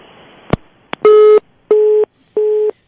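A couple of sharp clicks on the line, then a telephone busy signal: three evenly spaced, loud tone bursts with short silent gaps, heard alone with no talking.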